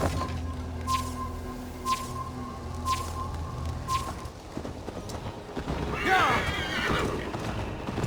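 Repeated horse hoof clip-clops ring out with a ticking rhythm in Assassin's Creed Valhalla, followed by a loud horse whinny near the end, over a low ambient rumble.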